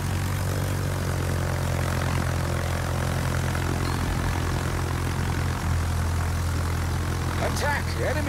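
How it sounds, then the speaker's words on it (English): Propeller aircraft engines in the World of Warships naval battle game drone loudly and steadily, a continuous airscrew roar that never lets up. "Attack! Enemy aircraft!"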